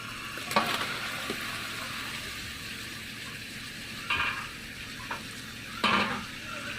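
Marinated chicken is stirred into browned fried onions in a hot pan for a chicken curry, with a steady sizzle and a few louder scraping stirs of the spoon.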